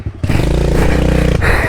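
A dirt bike engine revving hard close by, a loud steady throaty drone lasting just over a second with a brief shift in pitch near the end.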